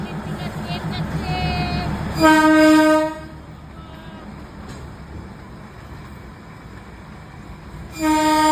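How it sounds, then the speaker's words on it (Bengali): A train in the misty Darjeeling hills passes close below a homestay balcony. Its horn gives two loud harmonic blasts between stretches of rumbling rail noise, and voices murmur near the start. "এই দেখো আমাদের বেলকুনির থেকে ট্রেন যাচ্ছে।"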